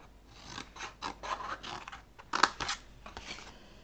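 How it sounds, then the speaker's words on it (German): Scissors snip cardstock along all four sides of a box panel at an angle, a few quiet, separate crisp cuts with small clicks of the blades, close by and with no talk. "also schneide ich an allen 4 Seiten einmal so ein bisschen schräg"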